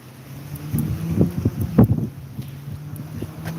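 Gusty outdoor wind buffeting a microphone, a low rumbling roar with irregular thumps and bursts that swell and fade over a few seconds, steady and fairly close with no speech.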